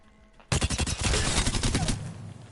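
A Volt SMG fitted with a turbocharger fires one sustained, rapid automatic burst of about a second and a half in a video game, loud and close, with no talking over it.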